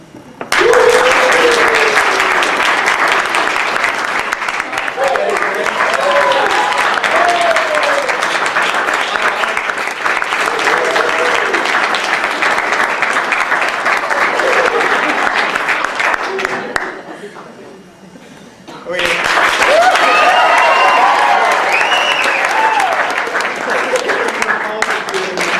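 A live storytelling-night audience bursts into loud, sustained applause and cheering that dips briefly before swelling again, with scattered voices and whoops mixed into the crowd noise.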